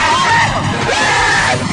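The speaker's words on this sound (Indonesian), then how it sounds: "dua orang pria yang berteriak histeris saat bermain permainan slingshot time" Two men scream and yell hysterically on a slingshot amusement ride, continuous loud, strained shrieking with crowd-like shouting throughout.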